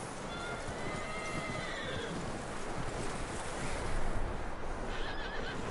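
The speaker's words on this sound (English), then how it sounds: "That looks like a decent horse." Horse neighing and whinnying with clip-clopping hooves in the video game Red Dead Redemption 2, loud and close over a dense rushing outdoor background.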